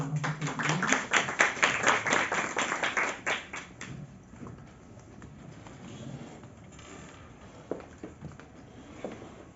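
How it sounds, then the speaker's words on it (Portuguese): Audience at an internship forum gives a short burst of applause that fades out after about four seconds, leaving a quiet room with a few faint sounds. "Vamos chamar agora Yasmin Ferreira da Silva, nossos aplausos"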